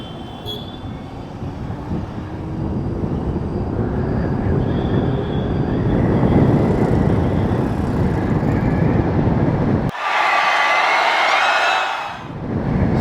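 A loaded 2025 Nexus ST scooter accelerates from zero to sixty, with a rising whine and swelling road and wind roar that builds steadily, then a sharp burst of rushing noise near the end.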